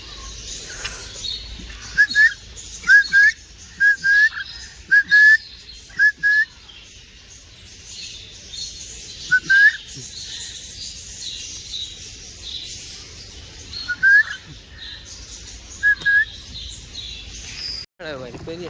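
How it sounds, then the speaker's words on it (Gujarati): Short, shrill whistled calls repeat in bursts of two or three, loud and close, over a steady hiss of background noise. "હા અલગ પોપટ છે, પેલા મોટા પોપટ"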